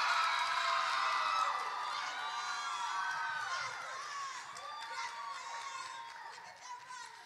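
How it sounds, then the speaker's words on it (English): An audience at the University of Missouri Tap Day ceremony cheers loudly, with high whoops and shouts over a crowd roar that slowly fades. "Please give Diamond a round of applause"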